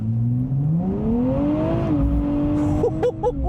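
A 2024 Nissan Z Nismo with a twin-turbo engine accelerates hard from launch control. Its steady engine note climbs in pitch, dips at an upshift, then keeps pulling loudly and close.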